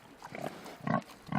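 Black pigs rooting in the soil on a farm grunt in short, close, low bursts, three or four snorting calls in quick succession with no talking.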